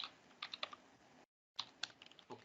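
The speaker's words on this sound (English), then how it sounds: "sorry for my typing" Someone typing on a computer keyboard during an online forecasting class: quiet, uneven bursts of clicky keystrokes, broken by a short silent pause, with no voices.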